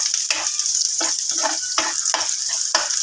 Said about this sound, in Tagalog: naggisa ako ng sibuyas at bawang